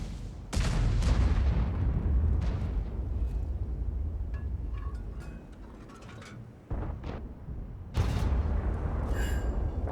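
Heavy tank cannon shots in a video game boom out several times over a dense rumbling battle ambience, with a deep blast near the start and more firing later, fairly loud and without talk.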